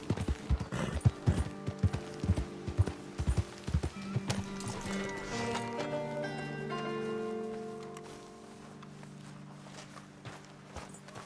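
In Red Dead Redemption 2, a horse's hooves clop rapidly as it pulls a moving wagon, loud and close. A horse whinnies and the clatter gives way to a sustained tonal neigh-like sound near the end.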